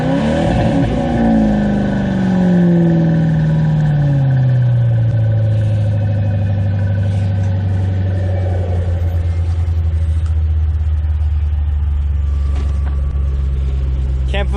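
A 2006 Ford Mustang drones loudly from the inside during a ride, its engine pitch sliding down and then settling into a steady low rumble, with occasional talk from the occupants.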